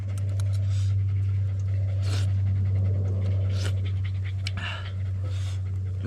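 Dogs pant rapidly and close by on a rural farm during outdoor cooking. The breathy huffs come in quick bursts over a constant low electrical hum, with faint scratching in between.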